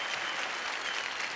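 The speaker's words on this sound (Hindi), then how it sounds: "हमारे देश की 2 और बेटियां, जोरदार तालियां" A television studio audience breaks into a short, dense burst of clapping that stays loud and even from start to finish, with no one talking over it.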